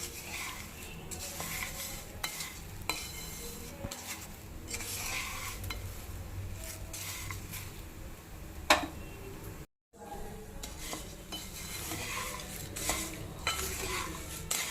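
Sugar syrup for atukula mishri is stirred slowly in a pan over medium flame, with a spoon scraping and clinking against the metal in an irregular rhythm over a faint bubbling sizzle, close up and with no talking.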